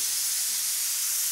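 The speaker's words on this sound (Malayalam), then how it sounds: "കുക്കർ ഒച്ചയൊക്കെ ഇട്ട് തുടങ്ങി" A pressure cooker steadily hisses with a continuous, loud steam jet while mutton curry cooks inside, with no talk over it.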